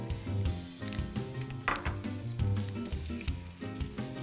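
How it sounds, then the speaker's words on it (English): Onions and bell peppers sizzle and crackle in a hot pan, with a steady frying hiss and occasional stirring clinks, no voices. "So it's time now to add our onions and bell peppers."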